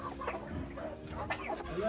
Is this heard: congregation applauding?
no